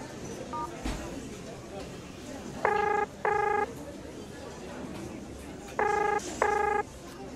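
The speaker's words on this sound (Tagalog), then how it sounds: "Tawagan ko na nga muna si Maris." Touch-tone telephone keys pressed to place a call, four distinct multi-tone beeps in two pairs, fairly loud over a low room hum with faint background voices.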